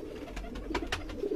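Pigeons on a rooftop loft coo softly in low, rolling throaty calls, a steady murmur close by with no voices over it.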